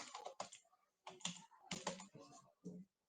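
Quick bursts of typing on a computer keyboard while logging in with a password, a few separate clusters of clicky keystrokes with short pauses between them, close and fairly quiet, with no talking.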